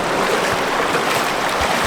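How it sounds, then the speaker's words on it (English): The River Medlock rushes fast through an underground tunnel in Manchester, a loud, continuous broadband roar of turbulent water echoing close by, with no voices. "How fast the water's, look, you see how fast the water's moving? It is moving very fast."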